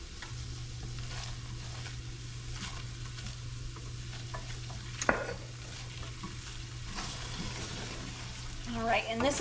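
A roux gets whisked in a pan for chicken and biscuits, a steady, fairly quiet scraping and stirring under a low hum, with a sharp knock midway and a voice starting at the end.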